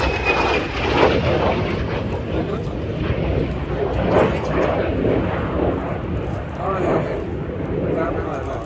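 A de Havilland Vampire jet roars overhead during a flying display at an air and country show, a loud continuous rushing engine drone that swells and ebbs, with someone talking over it throughout.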